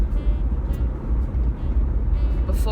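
A car driving on the road on a cold morning, heard from inside the cabin: a steady low engine and road rumble, fairly loud and continuous.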